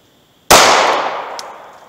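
A single close, sharp report from a .380 ACP pistol firing a 99 grain HST round into wood, followed by a long ringing decay. A faint tick sounds near the end.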